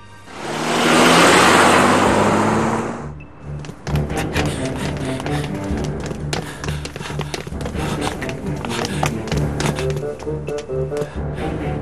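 A car starting up and driving off, opening with a loud whooshing engine surge, then giving way to a busy rattling, tapping stretch of motion and scene noise, with no clear speech.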